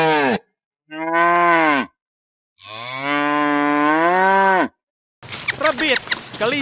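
A cow moos in long, loud, close calls, two drawn-out lows separated by silence, followed by a short burst of other noise at the end.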